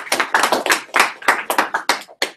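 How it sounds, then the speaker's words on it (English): A small group of people claps for two women, a short, close burst of uneven hand clapping that fades out after a couple of seconds. "Let's give these ladies a round of applause."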